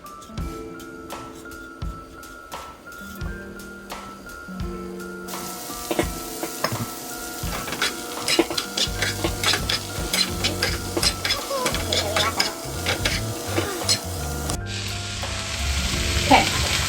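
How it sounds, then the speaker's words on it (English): Broccoli frying in coconut oil and being stirred in a pan, a continuous bright sizzle broken by scraping and clattering stir strokes, growing busier and louder midway, with no speech. "as the broccoli is cooking"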